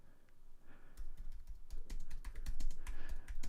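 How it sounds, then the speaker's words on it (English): Rapid, uneven typing on a computer keyboard, with quiet key clicks at first, then a denser burst of close, crisp keystrokes, no voices over it. "Oh, I can't even type. I can never type."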